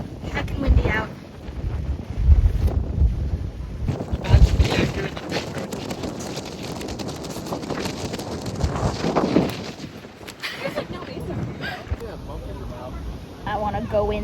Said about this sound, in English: It is heckin' windy out.